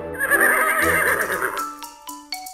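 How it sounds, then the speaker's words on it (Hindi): A horse standing in its stable gives a loud, close whinny that rises and falls for over a second, followed by a few brief snorts and faint knocks as it settles. "देखो घोड़ा अपने अस्तबल में खड़ा है।"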